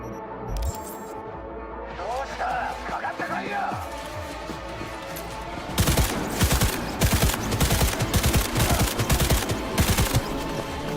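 Rapid bursts of automatic gunfire in Cyberpunk 2077, quieter at first and then dense, loud and sustained through the second half, with a voice talking over it.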